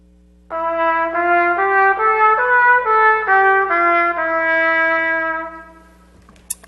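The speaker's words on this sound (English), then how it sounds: "So you take a typical sounding scale that might sound like this. I'll play it for you." Trumpet playing a scale in a Jewish art music style, a clear sequence of sustained stepwise notes rising and falling over about five seconds, solo and close, with a steady low hum underneath.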